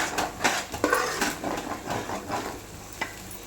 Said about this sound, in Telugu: అల్లం వెల్లుల్లి పేస్ట్ అంతా వేగిపోయి మంచిగా ఇలా నూనెలో ఇలా నూనె పైకి వస్తే చాలా మంచిగా వేగిపోయింది ఇది